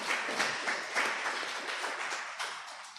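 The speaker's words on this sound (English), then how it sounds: "A round of applause to her." Audience applause for an honored guest at a live press and public engagement event, dense sustained clapping that stays steady for about three seconds before tapering slightly, with no talk over it.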